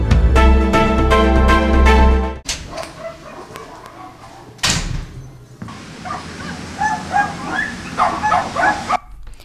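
Stray dogs in the town of Căușeni bark, yip and whimper, loud and close at first, then other dog sounds follow at a moderate distance.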